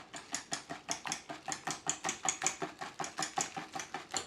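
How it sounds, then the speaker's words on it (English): Whisk beating chocolate cake batter in a bowl, a fast steady run of crisp, evenly spaced metallic scrapes and clicks, close and clear with no talking. "I'm going to give it a little whisk just to make sure we get a bit of air in there"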